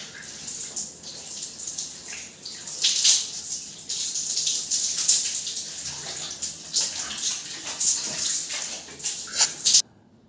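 A running shower hisses in a steady, fairly loud stream of water, varying as the spray is interrupted, then cuts off abruptly near the end.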